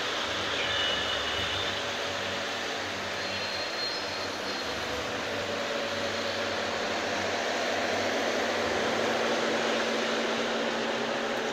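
MTH-DCS model train running on its track layout, a steady continuous rumble and whir held at an even level from start to finish, fairly close.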